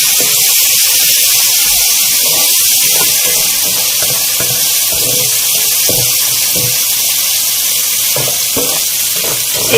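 Garlic and ginger paste sizzles in oil in a karahi for an aloo matar dish. A continuous bright hiss is broken by scattered soft clicks from stirring, close up, with no voices.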